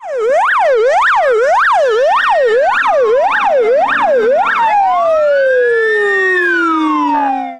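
Loud, close emergency vehicle sirens from an ambulance and traffic police at a road-accident response drill, a rapid repeating wail cycling steadily before shifting into slower rising and falling tones, with no talk.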